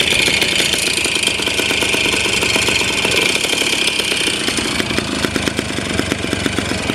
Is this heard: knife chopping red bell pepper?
no